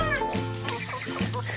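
A Rhode Island chicken on a small farm gives a short run of nasal clucks, close by and fairly steady, over a low background hum.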